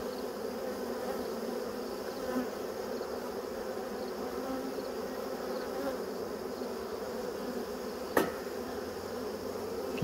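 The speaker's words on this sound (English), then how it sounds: "just look at how many bees are everywhere" Dense, continuous buzzing of many honeybees swarming around an open beehive, close and steady throughout, with a brief knock partway through.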